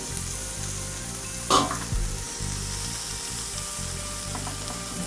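Curry ingredients, with salt and tomato, stirred and fried in a pan: a loud, dense sizzle runs throughout, with a brief scrape and clatter of the spoon early on. No speech.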